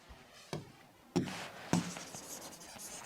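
Marker or chalk writing on a board during a geometry lesson on triangles, a few sharp taps and scrapes with soft scratching between them, moderately close and without talk.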